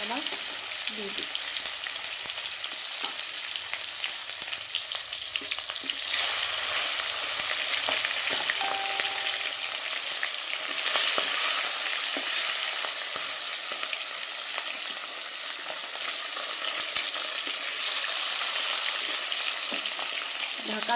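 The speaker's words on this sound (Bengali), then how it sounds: "তেলটা গরম হয়ে গেছে, এবার আমি মাছের মাথাগুলো ভেজে নেব।" Fish heads fry in hot oil in a home kitchen, a loud, continuous dense sizzle lasting throughout with occasional faint stirring and clinks, no talking.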